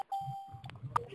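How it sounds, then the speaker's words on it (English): Electronic chimes and dings of callers joining a conference call line, a sustained tone followed by short beeps, faint and sparse against a quiet line. "just listen to the chimes and the dings"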